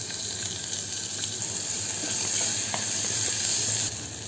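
Onions sauté and sizzle in a pan while a Tamil dish is tempered, giving a steady hissing fry with small crackles and occasional stirring clinks, close and even throughout.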